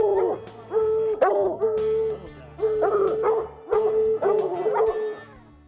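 Hunting dogs on a bear hunt in Northern California bay and howl in repeated drawn-out bursts, several voices overlapping at close range with short gaps between volleys.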